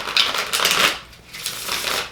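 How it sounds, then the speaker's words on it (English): Deck of tarot cards being riffled and shuffled by hand, two loud close bursts of crisp papery fluttering with a short pause between them, no talking. "I'm being guided for one more shuffle here."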